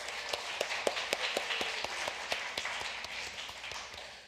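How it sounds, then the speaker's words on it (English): An audience at a visual merchandising presentation gives a short round of applause, quiet and somewhat distant, with a steady patter of claps that fades out at the end. "just open with a little round of applause for them for doing that"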